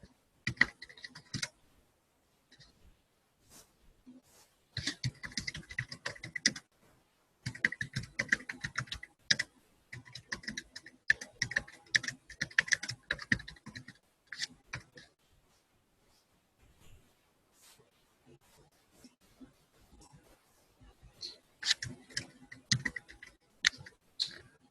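Typing on a computer keyboard during a software QA class, bursts of quick close key clicks broken by short pauses, with a few isolated taps between the bursts and no talk.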